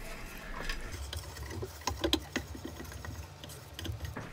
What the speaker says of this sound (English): I'm going to re-tap the ends and I'm going to do it by hand.